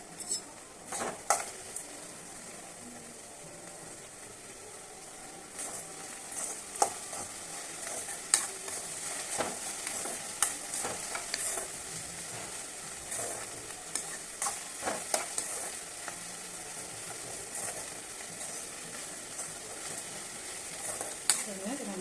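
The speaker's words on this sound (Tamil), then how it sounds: "நல்லா ஃப்ரை பண்ணி இது சில்லி பவுடர் போட்டோம்னா முடிஞ்சுது" Okra stir-frying in a pan sizzles steadily while a utensil scrapes and clinks against the metal in repeated sharp strokes, close and moderately loud.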